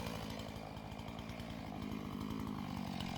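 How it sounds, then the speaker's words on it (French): A chainsaw cuts a directional felling notch into a standing tree, its engine buzzing loudly and steadily with a fast, continuous pulsing chatter that never drops off. "On fait une entaille directionnelle qui permet d'orienter la chute de l'arbre."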